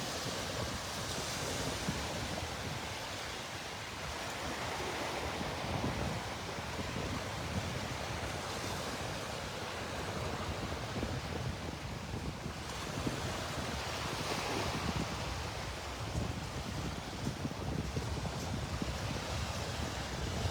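Small morning waves lapping on the beach at Delnor-Wiggins Pass State Park in North Naples, a continuous soft wash of surf with light wind noise, steady throughout and free of speech.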